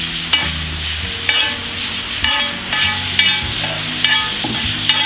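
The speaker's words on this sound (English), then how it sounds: "we're gonna get some chopped up bacon in our skillet here. And as you can see, it is already scorching hot." Chopped bacon sizzles loudly in a scorching hot skillet, a dense continuous hiss with a few sharp knocks and scrapes of a utensil against the pan, close up and with nobody speaking.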